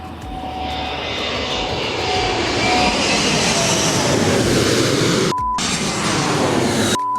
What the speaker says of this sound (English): Right behind me is Emirates' A380, and I'm not prepared to argue with it because it's very, very loud